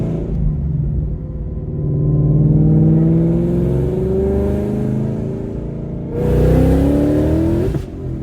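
A car engine revs up and holds a loud, rising drone, dips, then revs again sharply before cutting off; close and dominant.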